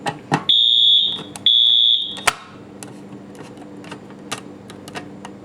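A Wheelock MT fire alarm sounds two loud, steady high-pitched tones about a second each with a brief gap, amid clicks and rattles from its noisy strobe during a bedroom system test, then faint tapping and handling noises follow.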